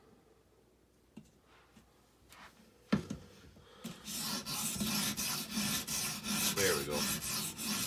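Folding hunting knife blade drawn across a 220 grit stone on an Edge Pro sharpener, a few sparse scrapes and knocks giving way to steady, rhythmic rasping strokes close by, with a brief spoken remark.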